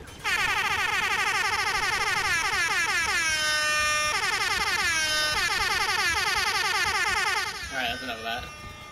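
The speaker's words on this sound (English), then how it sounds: "I am now thoroughly sick of the air horn" Loud, blaring air horn sound effect over Uncharted 2 gameplay in a long continuous stream, the pitch sliding and stuttering, then a few choppier bursts before it cuts off.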